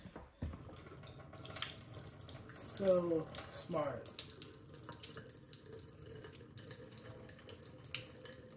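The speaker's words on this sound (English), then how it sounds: "I'm going to be able to strain out the water. I'll just do that real quick into the sink." Water from a ramen container is strained through its built-in strainer into a sink, a splashing pour that swells for a couple of seconds midway over a steady background of running water, with a brief spoken comment.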